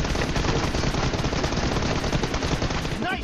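Sustained bursts of automatic gunfire in a BGMI team deathmatch, loud and continuous with rapid repeated shots throughout, mixed with game sounds.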